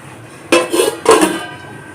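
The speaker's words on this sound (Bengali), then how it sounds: "গ্যাসটাকে লো ফ্লেমে করে রাখবো আর থালা দিয়ে চাপা দিয়ে দেব" A metal plate set down as a lid over a pan of jute leaves on a low gas flame, giving two close, sharp clattering metallic knocks about half a second apart with no voices.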